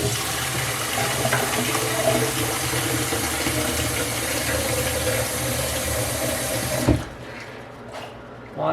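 Steady running water, like a tap filling a container to bottom-water seedlings in paper cups, pours loudly and evenly for about seven seconds, then cuts off abruptly, leaving faint trickles and quiet handling sounds.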